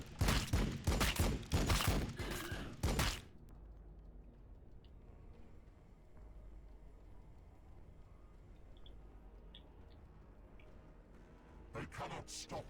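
A rapid burst of gunfire in Warhammer 40k Battlesector, loud cracking shots packed together for about three seconds, then a low battlefield rumble, with more shots returning near the end.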